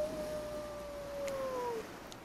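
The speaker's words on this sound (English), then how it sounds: "together we all howl" A single long, slowly falling howl in the manner of a wolf, from the video game Hooked on You, holds steady for nearly two seconds over faint background hiss.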